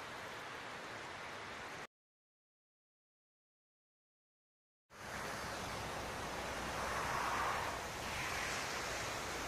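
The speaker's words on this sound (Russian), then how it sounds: "Речка, конечно, такая бурная." Rushing Capilano mountain river in Vancouver gives a broad, steady roar of turbulent water, faint and distant, with a few seconds of complete silence partway through.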